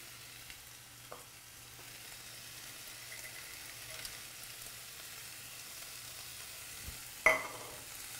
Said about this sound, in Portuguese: Deixa ele cozinhar mais um pouquinho aqui, para soltar mais o sabor do bacon